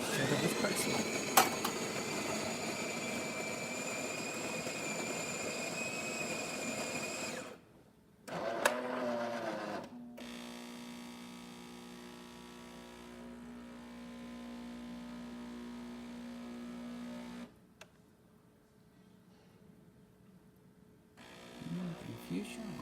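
A Jura coffee machine, just serviced and tuned, whirs and buzzes through an espresso cycle, with a strong motor whine at first, then a lower pump hum after a short pause and a few clicks, fairly quiet overall.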